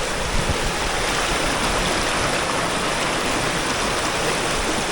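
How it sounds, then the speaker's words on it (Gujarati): A flowing stream near the source of the Madhuvanti river in Gir rushes loudly and continuously, a dense steady roar of water with no voices. "હજી જો તમને હું ઝરણા બતાવવા જઈ રહ્યો છું"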